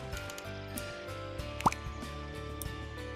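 Cartoonish water drip in Scribblenauts, a single bright plinking drop standing out over a soft musical background with a few faint wet squishes.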